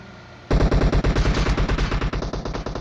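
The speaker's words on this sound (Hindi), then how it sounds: "जब आप इसमें सप्रेसर लगाते हो तो भाई बहुत डोप आवाज़ निकलती है" Rapid automatic fire from a suppressed Vector in PUBG Mobile, starting abruptly and running as a dense string of quick, close bursts.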